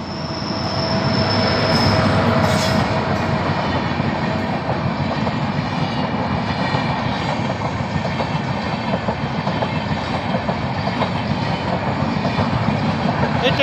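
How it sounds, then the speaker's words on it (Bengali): A Raiganj to Howrah passenger train rolls past close by, a loud sustained rumble of wheels on rails with a high squeal at first and rhythmic clatter throughout. "জাস্ট হয়তো ট্রেন চলে এলো, আওয়াজ পেলাম।"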